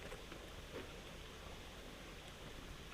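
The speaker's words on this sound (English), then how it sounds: "Little babbling brook here." A small babbling brook runs through a New Hampshire forest, a steady, faint, broadband trickle and rush of water with no talking.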